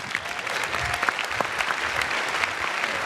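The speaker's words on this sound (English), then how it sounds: "Round of applause, please." Sustained audience applause at a tech pitch event fills the room with dense, steady clapping at a fairly loud level, with no voices standing out.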